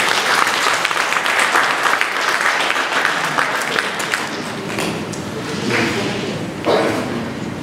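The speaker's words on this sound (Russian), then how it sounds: "Бурные аплодисменты, друзья." An audience at a talent concert claps loudly and steadily, a dense wash of hands that eases slightly toward the end, with a few sharper individual claps standing out.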